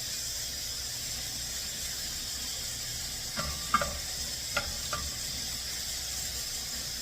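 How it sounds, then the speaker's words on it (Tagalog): Garlic fries in olive oil in a pan, producing a quiet, even sizzle with a few sharp spatula scrapes clustered in the middle, no talking. "Sabay na natin yung bawang natin bago mag-init yan."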